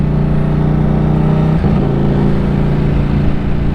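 Ducati Streetfighter V4S motorcycle ridden at low speed, a steady loud engine drone with a smooth, even tone throughout and a brief dip around a gear change.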